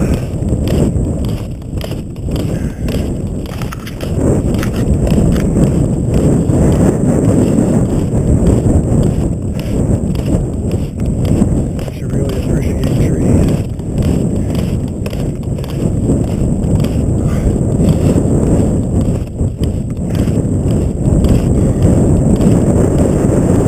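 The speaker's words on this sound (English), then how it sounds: "Open windy patch." Steady wind gusts buffet the microphone on an open, misty patch of the Bunsen Peak Road trail in Yellowstone, a continuous low rumble with swelling gusts throughout and no talking.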